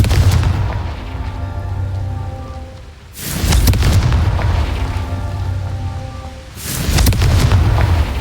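Two heavy booms from a Confringo blast spell in a Harry Potter video game, each a loud, deep explosion that breaks out and rolls on for a few seconds. No voices are heard.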